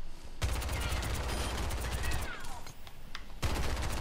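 Rapid video game gunfire rattles loudly for several seconds, pauses briefly, then bursts again.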